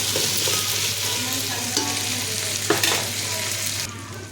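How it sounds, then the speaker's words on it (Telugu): Spices, ginger, coriander and mint fry in tempering oil for chicken biryani, giving a steady loud sizzle with a few scraping stirs of the spoon partway through. "ఇప్పుడు ఇదంతా తాలింపులో కాలింది."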